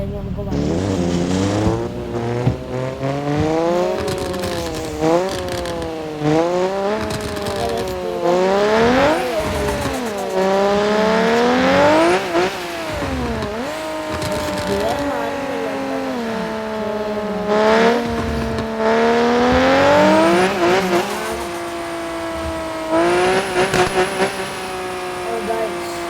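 Car engine in the Car Parking Multiplayer video game, driven with a manual gearbox, revving repeatedly through rising and falling gear pulls, loud and continuous with tyre squeal at times, someone talking over it throughout.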